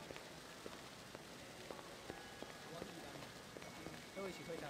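Rain in the video game Blade Runner, falling steadily with a dense hiss beneath a high indoor ceiling, marked by faint scattered ticks and thin electronic tones, with a soft rumble near the end.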